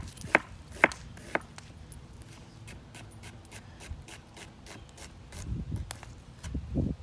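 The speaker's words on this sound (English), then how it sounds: "So you cut your onion in half and just cut down through it." A knife julienning red onions on a cutting board, a few sharp distinct chops early on followed by a quieter series of light slicing taps, with soft shuffling and handling noise building toward the end.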